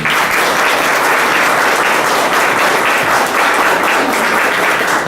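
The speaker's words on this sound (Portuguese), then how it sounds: "com uma outra salva de palmas." A church congregation applauds, a dense, loud, continuous clapping that holds steady from start to finish without any voices.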